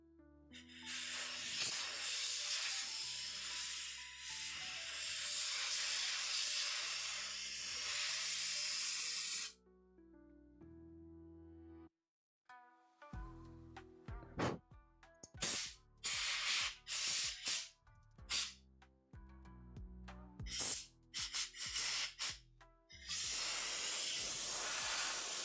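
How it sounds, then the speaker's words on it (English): Compressed air blowing hard onto a fake base model, a loud sustained hiss in long blasts broken by short sputtering puffs, close up with no speech. "So let's continue with the compressed air."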